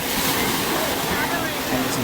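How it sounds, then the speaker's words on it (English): Ocean waves break along a Hawaiian shore, a continuous close roar of surf with a rough, wind-buffeted texture and no clear pauses. "And seeing the waves that come past."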